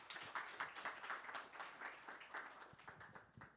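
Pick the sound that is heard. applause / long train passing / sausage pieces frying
applause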